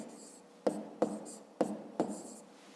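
A pen writes numbers on paper in four quick, close strokes with small gaps between them, while the room behind stays quiet.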